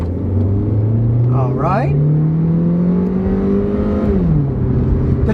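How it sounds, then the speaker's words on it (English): An older Hyundai car accelerating hard on a makeshift drag strip, its engine note climbing steadily through the revs before dropping at a gearshift, loud and close from inside the car, with a brief spoken word near the start. "So we're going to find out what kind of acceleration it really has"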